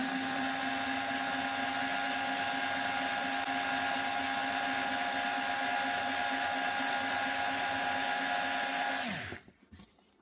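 Parkside PARS 4 A1 cordless stick screwdriver running at full speed, a steady high motor whine with a constant pitch held close for about nine seconds before it winds down and stops.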